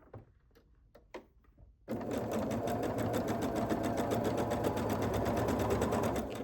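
A sewing machine stitching rows of a quilt block starts after a few soft handling clicks and runs in a steady, fast, even hum of rapid needle strokes, close and continuous until the end.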